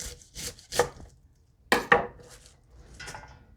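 A knife strikes a cutting board in a few sharp chops, some single and some in quick pairs, close and crisp against a quiet background.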